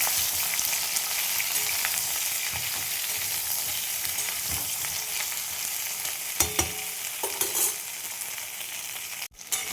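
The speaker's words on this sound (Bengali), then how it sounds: "দেখো ভিন্ডিগুলো আমার ভাজা হচ্ছে, খুব বেশি লাল করব না।" Okra (bhindi) frying in a pan for a spiced masala dish gives a steady, close sizzle throughout, with a few brief stirring scrapes and clinks near the end.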